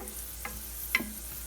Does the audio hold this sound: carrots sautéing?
yes